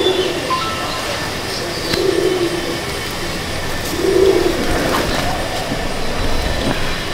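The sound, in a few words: Madrasi pigeons cooing in a loft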